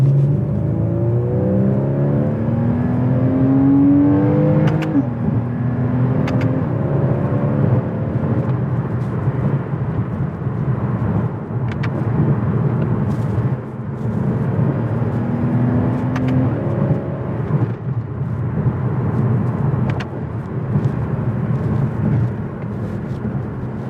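A Porsche Boxster engine accelerating on a canyon road, revving up and shifting through gears, steady and loud with wind and road noise throughout.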